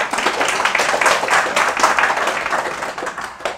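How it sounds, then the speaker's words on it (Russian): An audience applauds steadily, a dense wash of many hands clapping loud and close for several seconds without a break. "Я прошу им аплодисменты."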